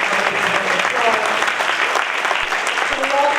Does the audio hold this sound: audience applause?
yes